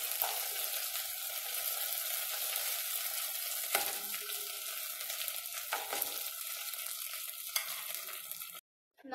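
Chicken pieces frying in a pan of oil give a steady, close crackling sizzle with occasional sharper pops, continuous and alone until it cuts off near the end.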